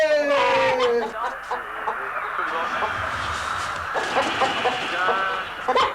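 Chickens cluck and squawk nearby while people talk and a loud football match broadcast plays in the background.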